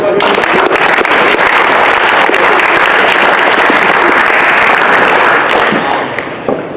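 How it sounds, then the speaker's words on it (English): A hall full of schoolboys bursts into loud, dense applause, holding steady throughout before easing slightly near the end. "boys, a round of applause for Toiroa"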